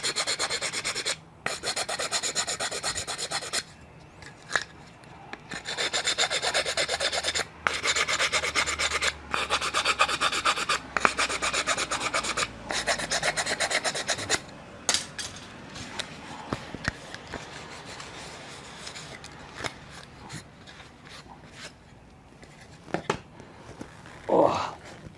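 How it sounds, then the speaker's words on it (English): Sandpaper held in a clamp tool rasps against wood while dice towers are made, a close, steady rubbing in repeated strokes with short pauses, thinning to lighter scrapes and a few handling knocks toward the end. "it's just a bit of sandpaper in there, and you got the clamp on it. You push it into the little gaps there."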